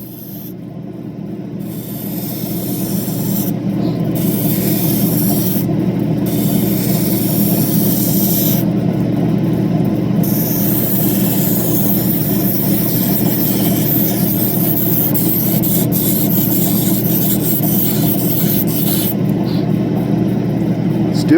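Diamond wheel grinding an opal stone, a continuous loud motor hum with a rough grinding drone that builds over the first few seconds and holds steady, broken by short bursts of hissing spray.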